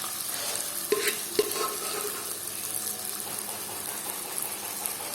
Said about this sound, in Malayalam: ഇതിലേക്ക് വേവിച്ച് വെച്ചുള്ള പരിപ്പ് ചേർത്ത് കൊടുക്കട്ടെ.